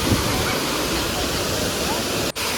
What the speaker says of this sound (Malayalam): അത്രയും സൗണ്ടാണ് ഈ വെള്ളം വീണുകൊണ്ട്